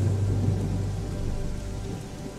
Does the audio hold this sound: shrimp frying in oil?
no